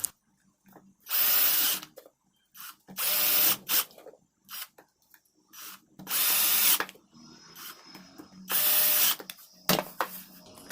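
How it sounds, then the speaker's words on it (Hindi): A power screwdriver drives screws into a home theatre speaker in four short, loud whirring bursts separated by quiet pauses and small handling clicks. "अब आखिरी स्पीकर के भी स्क्रू लगा देते हैं।"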